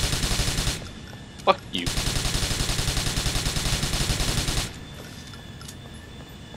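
Rapid automatic gunfire rattles in sustained bursts in Grand Theft Auto IV multiplayer, loud and close, then cuts off abruptly; a man swears briefly over it.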